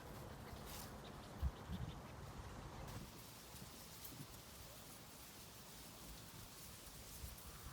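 Soft, steady rain patters in a faint continuous hiss, with a brief dull thump near the start.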